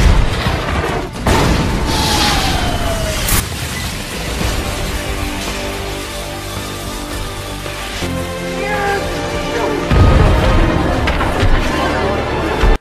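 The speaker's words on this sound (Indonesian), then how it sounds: "Terjadi pertarungan di antara percikan api hingga membuat tempat itu meledak, dan saat Punch membuka portal untuk kembali" A big explosion erupts during a martial-arts fight scene amid flying sparks, with a loud booming blast that fades into a rumbling, crashing debris tail, and a second surge of crashing toward the end.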